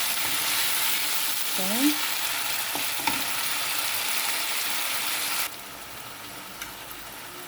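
Alexandrian-style liver fries in hot oil in a pan, sizzling steadily close up, with a few clinks of a utensil and a brief spoken word, then the frying continues a little quieter.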